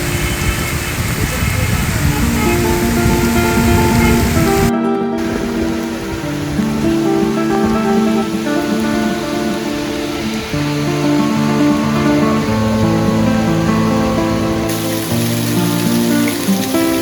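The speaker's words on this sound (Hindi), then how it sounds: "बहुत बारिश है।" Heavy rain pours down during a weekend motorcycle ride toward Bhimashankar, a steady dense hiss that continues under loud background music for the whole stretch.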